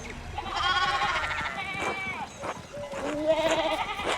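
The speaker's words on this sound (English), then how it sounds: "we need to get these sheep under control" Sheep bleat repeatedly in the medieval adventure game Pentiment, several loud, wavering calls overlapping across the clip over a background of farm ambience.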